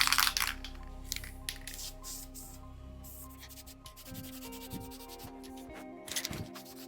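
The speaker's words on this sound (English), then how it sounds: "Deburring the back side too." Metal for a Backwoods truck bumper is deburred by hand: close, scraping, rubbing strokes in an uneven rhythm, with sharper bursts at the start and near the end and quieter grinding between, with no talk.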